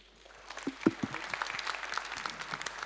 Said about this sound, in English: I would like to give us all a last round of applause for Gavin for coming here to Hong Kong today